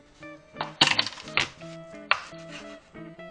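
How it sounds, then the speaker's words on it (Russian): Boiled meat, just lifted out of broth, is cut on a board with a knife, giving several close, sharp chopping knocks and clinks in an irregular rhythm with short pauses between strokes. "Достаем мясо из бульона и нарезаем."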